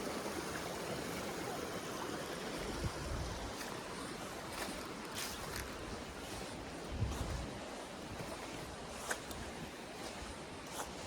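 A clear woodland stream flows steadily and close by, a continuous broadband rush of water with small splashes, heard alone without talk.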